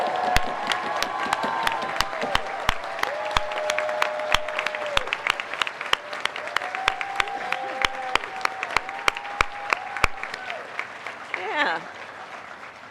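An audience at a political rally ahead of the midterms breaks into sustained applause, a dense wash of clapping and cheering that runs for several seconds. Speech and cheers rise over it before it fades out near the end.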